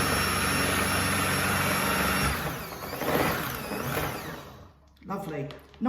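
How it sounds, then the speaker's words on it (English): Electric mixer whirring loudly as it blitzes eggs and milk, a steady motor drone that shifts pitch partway through, then cuts out, followed by brief clatter and voices. "I'm going to use a mixer to blitz them all up."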